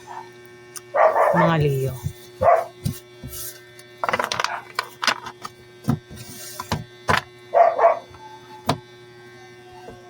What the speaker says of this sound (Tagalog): Ingay ng mga aso nagtatahulan